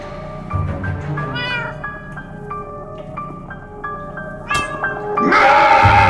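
A cat named Winslow meows repeatedly in Minecraft Story Mode, a series of clear, rising cries sounding close and loud over a game soundtrack, ending in a burst of noisier action.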